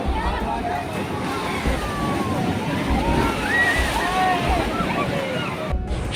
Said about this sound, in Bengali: সমুদ্রের উচ্ছ্বাস আর মানুষের উচ্ছ্বাস, দুই মিলেমিশে প্রবল শব্দ